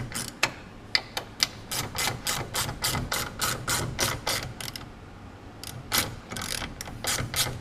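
Ratchet wrench clicking rapidly while tightening rusty rear sway bar bolts on a Porsche 944, close and crisp in quick bursts of ratcheting strokes with short pauses between.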